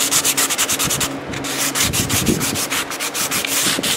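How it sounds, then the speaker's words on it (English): 600-grit sandpaper is rubbed gently back and forth over a wet-sanded poly finish, making rhythmic close scratchy strokes, loud and steady, with no talking. "we'll start with the 600 and just gently go over this thing"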